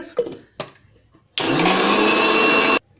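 An electric blender grinds dates for a milkshake in one loud, steady whir lasting over a second after a couple of brief clatters, then stops abruptly.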